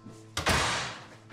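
A classroom door swung shut after someone enters, a single solid thud with a brief rattle, close and loud, fading into room tone.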